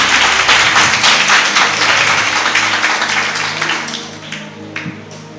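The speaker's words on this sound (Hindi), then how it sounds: "एक जोरदार ताली यीशु मसीह के लिए बजाएंगे।" A church congregation claps loudly for Jesus Christ, with dense sustained applause from a crowd that gradually thins and fades out over several seconds, a few scattered claps trailing at the end.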